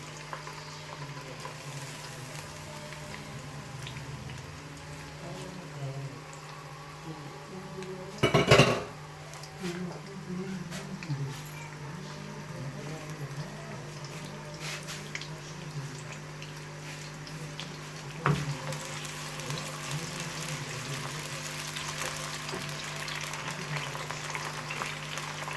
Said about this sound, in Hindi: इसमें हम सबसे पहले प्याज डालेंगे। प्याजों को अच्छी तरह जो है वो ब्राउन करेंगे।